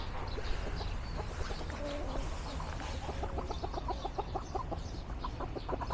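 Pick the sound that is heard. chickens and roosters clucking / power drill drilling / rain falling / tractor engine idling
chickens and roosters clucking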